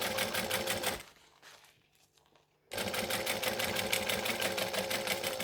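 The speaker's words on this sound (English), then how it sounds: "I'm stitching 1/8 of an inch from the seam we just created" A sewing machine stitches down the seam allowance of a fabric pouch, running in a fast steady whir, pausing briefly for about two seconds, then resuming at full speed.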